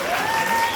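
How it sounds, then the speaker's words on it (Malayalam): An audience at a school function breaks into a brief, dense burst of clapping, close and steady throughout. "കയ്യടി പോരാ, നല്ല കയ്യടി"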